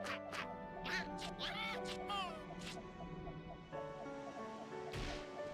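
Ducks quacking in a video game, a rapid series of nasal quacks over layered game music tones, moderately loud and alone without talk.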